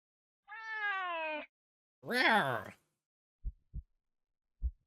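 A cat in a video game meows twice, a long meow and then a rising, bending one, followed by three short, low thumps spaced apart.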